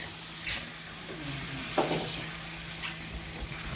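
Chicken liver being stirred into a bubbling Guyanese-style curry in a pot, a steady soft sizzle with occasional scraping strokes of the spoon, close and unaccompanied by talk.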